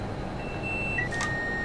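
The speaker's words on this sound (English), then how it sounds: "I'm still clearing all of my alarms" Cab alarms in a Pendolino train sound as thin electronic beeps, a few short tones stepping in pitch over a low steady background rumble, with no talk.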